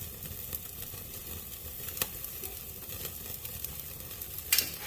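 Thick strip steak sizzling on a grill indoors, a steady close crackling sizzle with scattered pops and a brief louder burst of spattering near the end, no talking.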